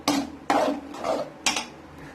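A utensil scrapes and knocks in a metal vessel as tamarind rice mix is stirred into cooked rice, three or four sharp clattering strokes at a regular pace, close and alone.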